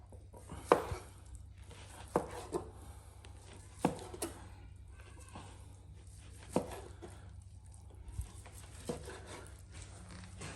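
A knife slices through smoked brisket on a cutting board, with sharp, evenly spaced thuds and cuts about every second or two over a quiet low hum.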